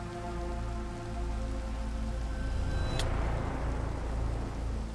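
Steady rainfall in the Minecraft video game on a rainy morning, a continuous dense patter with a low rumbling bed, a brief sharp click near the middle, no voices.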